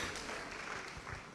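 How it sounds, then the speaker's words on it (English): An audience claps briefly in a short burst of applause at a campus summit event, filling the moment without speech. "Let's clap for the lady."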